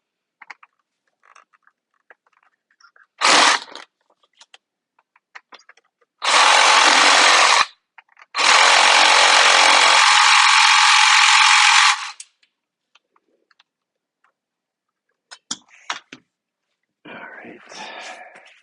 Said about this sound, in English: I do have to cut this off